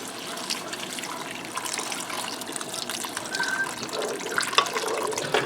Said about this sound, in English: I'm going to add in 4 cups of beef broth